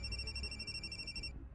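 A phone rings for an incoming call, a steady electronic ringtone with sustained bright tones that cut off abruptly near the end, alone over a low background.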